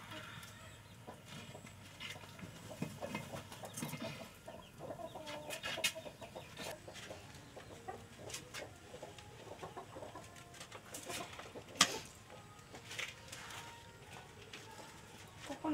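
Faint clucking of chickens on a Vietnamese farm, soft and scattered over a busy outdoor background, with people talking quietly nearby.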